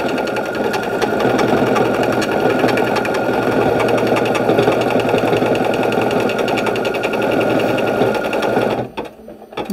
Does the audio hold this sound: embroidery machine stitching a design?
yes